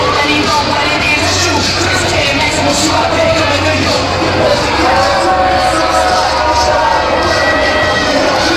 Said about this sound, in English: The crowd is thoroughly behind Pancakes, though.